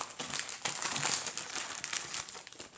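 Hands rummaging through a stuffed padded envelope for a card, close crinkling and rustling of plastic and paper in irregular bursts, quiet and without speech.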